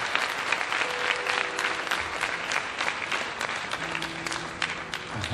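Sustained applause from a church congregation in Lomé, Togo, steady and dense throughout, with faint voices and a few tonal cheers mixed in.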